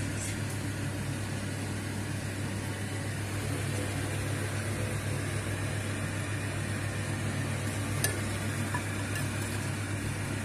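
Samosas deep fry in hot oil with a steady, continuous sizzle and bubbling hiss that stays even throughout, with a faint click or two.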